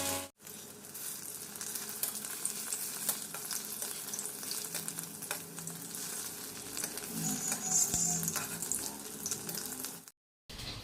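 Egg-coated bora fritters frying in hot oil in a wok, a constant dense crackle and hiss close by with occasional clatter, running almost the whole time before cutting off briefly near the end.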